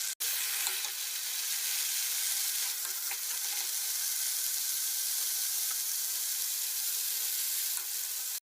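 Ginger chicken karahi fries on a high flame, giving a loud, steady, close sizzle with faint spitting crackles, continuous and without speech.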